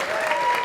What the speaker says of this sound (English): yeah, I think that's worthy of applause.